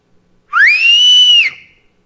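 A single clear whistled note, rising quickly then held steady for about a second before trailing off, with nothing else around it.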